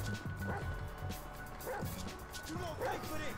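A dog barks in the Grand Theft Auto V video game, three or four sharp woofs spaced roughly a second apart, fairly close, mixed with game noise and someone talking.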